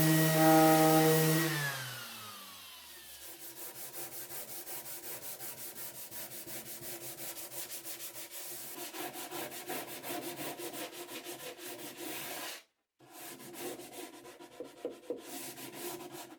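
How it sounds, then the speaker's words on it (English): Wooden kitchen wall cabinets get their final sanding, a steady, close rasping rub that runs continuously, with a brief pause near the end before the sanding picks up again. "you don't have to wait until the glue dries before the final sanding, and that's what I'm doing here"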